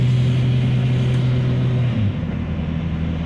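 A 1.9L diesel-swapped one-ton truck engine drones steadily with a loud, continuous low hum and a slight pitch shift as the revs climb, with no one talking.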